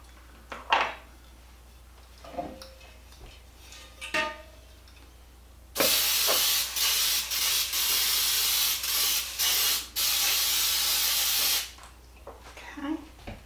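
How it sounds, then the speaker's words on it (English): Cooking spray hisses in several sustained bursts into a bundt pan, loud and close with brief gaps, after quieter kitchen clatter and handling. "the first thing I'm going to do is I'm going to spray my bundt pan"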